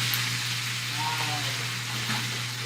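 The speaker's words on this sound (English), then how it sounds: "the salmon is frying up" Salmon fries in a hot greased skillet, giving a steady soft sizzle over a low hum, with faint clinks and bubbling throughout.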